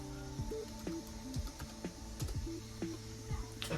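Typing on a computer keyboard while setting up an OpenIPC AI dual camera, a quiet run of irregular key clicks and taps close by with no talking.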